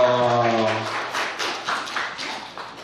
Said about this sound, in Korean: 우리 하나님 앞에 영광의 박수 올리겠습니다.